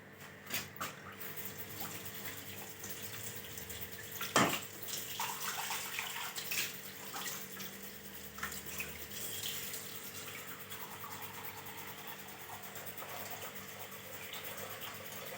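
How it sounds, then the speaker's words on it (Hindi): A bowl of water is poured into dal cooking in a kitchen, a gentle splash and trickle, faint and close, with small clinks and a low background hum. "ये एक बाउल भर के मैं इसमें शामिल कर रही हूँ पानी"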